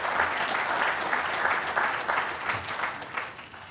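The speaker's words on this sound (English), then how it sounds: "Can we give Sean Adams another round of applause?" Audience applause fills a hall, steady clapping from a crowd that swells and eases slightly over a few seconds, with no speech on top.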